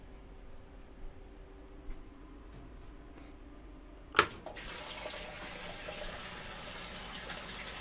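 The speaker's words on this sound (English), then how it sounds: "It's just filling the tub, so it's not that big a draw yet." A washing machine fills its tub with water. After a few faint clicks, a sudden clunk marks the inlet opening, followed by a steady hiss and rush of incoming water.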